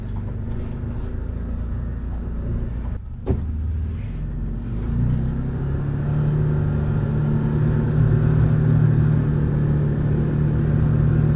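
Can-Am Defender UTV in snow, its engine droning steadily and building louder as it drives and turns, with a brief thump partway through and no talk.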